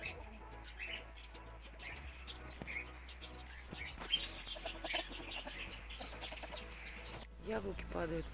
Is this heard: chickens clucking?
yes